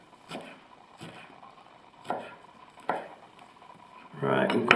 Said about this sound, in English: Cutting on this hardwood block.